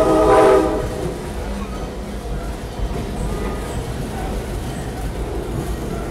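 A train on the Stone Mountain Railroad sounds a short, loud horn blast at the start, then rumbles steadily on with a continuous low rolling noise.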